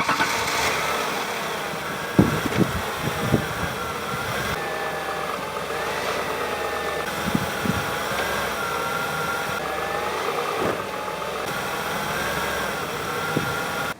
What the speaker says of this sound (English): We're going to see how much this engine shakes now.